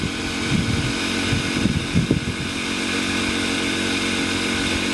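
A Kipor IG1000P inverter generator runs close by in its loudest, non-smart-throttle mode, giving a steady, buzzing engine drone with a constant hum and a few brief fluctuations.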